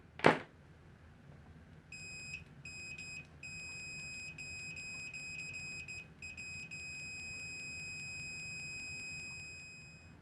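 An SZBJ VC92 cheap multimeter beeping in continuity mode, a steady high electronic tone that stutters briefly at first and then holds continuously for several seconds over faint background hum.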